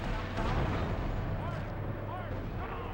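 Gunfire from Grand Theft Auto Vice City, a dense ongoing barrage of shots and blasts, loud and continuous for the whole stretch with game sounds mixed underneath.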